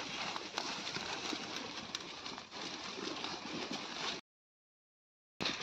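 A flock of sheep walks toward its pen in a village pasture. Soft, scattered hoof patter and shuffling sound faintly throughout, broken by a brief stretch of complete silence near the end.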